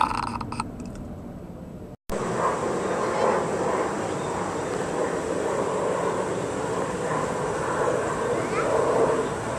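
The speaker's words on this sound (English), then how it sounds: "Airplane." A fixed-wing airplane drones steadily overhead in a home setting, a broad continuous rumble that follows a brief cut and holds through the rest, with a dog's yips near the start.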